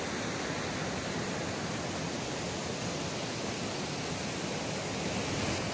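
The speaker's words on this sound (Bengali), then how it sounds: "এখান দিয়ে জলগুলো নেমে ওই যে উপর থেকে একটা নামছে, নেমে কিন্তু এখান দিয়ে পড়ছে" Water pouring down over rocks at Bhatinda waterfall, a dense, steady roar close by that fills the whole clip without pause.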